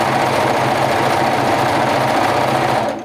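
A sewing machine stitches a seam in a continuous fast, even whir with steady mechanical rattle, close and loud, stopping abruptly at the end.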